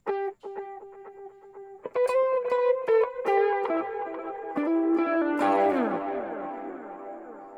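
Electric guitar played through delay effects on a Quad Cortex. Picked notes and chords ring close and loud, with each one repeating in echoes that build into a dense wash. There is no talking.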